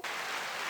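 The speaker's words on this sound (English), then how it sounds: "9-second applause" Applause from a studio or live audience greeting a rap legend MC as he joins an interview, a brief dense wash of clapping that cuts in and stays at an even level.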